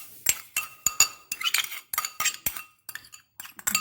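A fork clinks sharply against a bowl while mixing a chocolate and strawberry ice cream dessert, close, irregular metallic taps in quick bursts.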